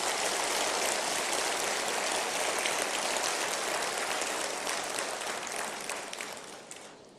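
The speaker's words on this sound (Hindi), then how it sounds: "एक बार जोरदार तालियों से आप उनका स्वागत करें" Loud, sustained applause from a large audience welcoming India's Vice President at a Rajasthan government event, a dense continuous roar of clapping that slowly fades toward the end.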